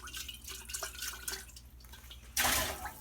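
Liquid poured into canning jars to rinse them out while making baked beans: soft, close trickling and dripping, ending in a brighter splashing pour, with no talk.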